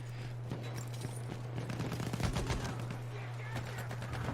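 Gunfire in the Battlefield video game, rapid bursts of distant shots crackling over a constant low hum, with a voice briefly over the top.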